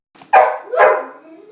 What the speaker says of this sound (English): Okay, sorry about my dog.